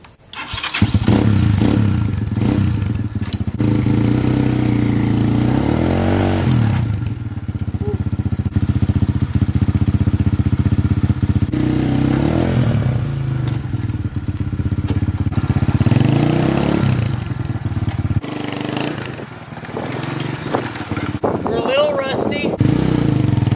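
Manual 250cc dirt bike engine revving hard and steadily through repeated burnouts, loud and close, with throttle rises and falls and a brief dip near the end; a voice speaks over it.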